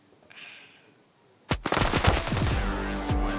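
Sudden loud gunfire in the mobile shooter Standoff 2, a sharp opening shot followed by several rapid reports and echoing game noise, after a quiet moment of low background hum.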